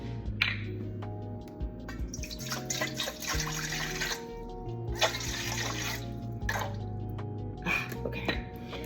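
About 350 grams of water pours into a mixing bowl for sourdough, splashing and trickling in uneven bursts that rise and fall, with small drips between.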